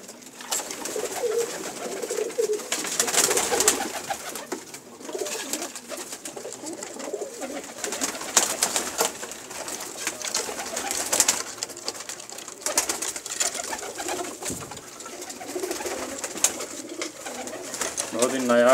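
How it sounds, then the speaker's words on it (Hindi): Pigeons cooing in a loft at a home pigeon-keeping gathering, soft repeated coos scattered through steady background chatter and voices of people talking nearby. "बहुत ही नायाब कबूतर हैं जनाब।"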